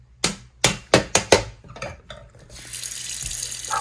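A few sharp knocks and clatters, then a steady hiss of hot tap water running into a sink, fairly close and continuous.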